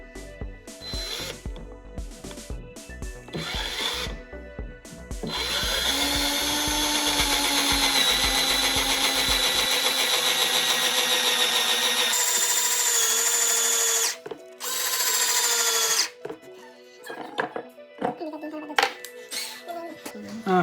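A power drill bores a hole through wood for a barn door, with a long steady whining run, a short pause, then a second burst, surrounded by handling knocks and brief talk.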